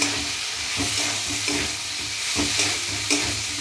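Soybean and potato curry stirred and fried in a pan: a continuous close sizzle broken by regular scraping strokes of a spatula about every half second, loud, with no speech.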